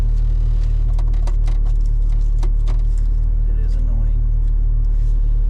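A turbo Mazda Miata's exhaust gives a loud, steady low rumble at idle throughout, with a person talking over it.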